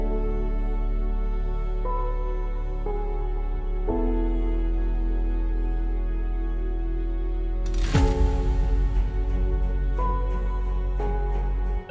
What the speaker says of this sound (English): we also introduce some piano chords